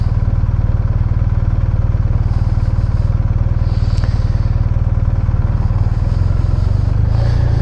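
A 2019 BMW R1250RT-P police motorcycle with a newly replaced clutch runs close by, its engine holding a steady, loud, even idle with no voices over it.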